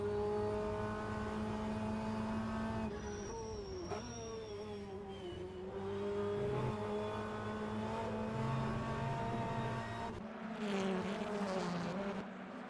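BMW racing car engines in a sim racing game during a Brands Hatch Indy touring car race, droning and shifting pitch steadily through gear changes, with other cars passing; a moderate, continuous mechanical whine.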